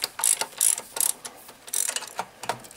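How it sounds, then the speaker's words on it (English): A 1/2 inch ratchet with a 5/8 socket clicks through several quick bursts of ratcheting while loosening a bolt on a Lincoln Continental alternator, close and crisp with short pauses between strokes. "Just got a 5/8 inch socket on my 1/2 inch ratchet here."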